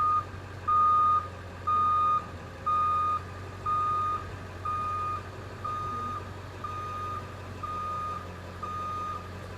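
Truck backing toward a trailer ball, its reversing alarm beeping in a steady, evenly spaced rhythm over a low idling engine hum, moderately loud and close, with no talk.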